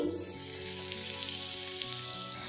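White cumin seeds and a pinch of asafoetida hit hot white cooking oil for a tadka, giving a steady, close, crackling sizzle that holds at an even level throughout without talk.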